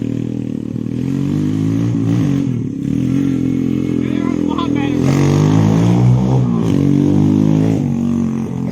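A Honda 400ex ATV engine runs after its clogged fuel line was cleared, a loud, close, continuous motor note with some rising revs partway through.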